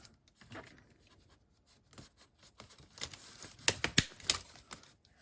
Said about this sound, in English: So I snip there, and we're going to snip here